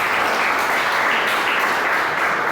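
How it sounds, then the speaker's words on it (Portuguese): A church congregation claps together in dense, loud, steady applause filling the room, sustained evenly throughout with no pauses. "Palmas para Jesus, irmão, aleluia."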